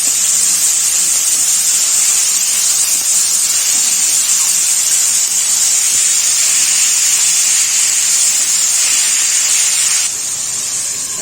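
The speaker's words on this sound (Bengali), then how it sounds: "এইভাবে ডেকে ডেকে কিছুক্ষণ সিদ্ধ করে নিয়ে নিব" Ash gourd with salt and turmeric cooks in a covered pot, producing a loud, continuous steamy hiss that holds steady for seconds and then drops slightly near the end.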